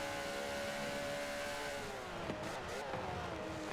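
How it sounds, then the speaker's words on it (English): A Le Mans endurance race car with a screaming flat-six engine holds a steady high-pitched whine on track, then shifts and drops pitch as it passes, fairly faint in the distance. "it has a screaming flat 6 engine"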